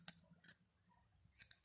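Fairy Tarot cards are shuffled by hand in quiet short bursts, with a few soft crisp flicks and riffles spaced across a brief, faint moment.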